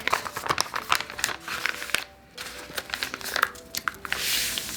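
Paper sewing pattern pieces for a holiday party dress being folded and handled, giving close, continuous crinkling and rustling with a few sharper crackles and one short lull.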